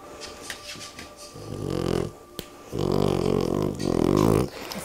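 A dog snores in slow, rumbling breaths, two long throaty pulses close by, with quiet room noise in between.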